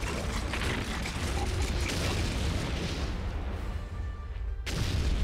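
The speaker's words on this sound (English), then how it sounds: "Cannons are ready to fire. Let me see the fireworks." Cannons fire in the video game Hyrule Warriors: Age of Calamity, a dense, continuous roar of booming blasts and rumbling debris that stays loud throughout.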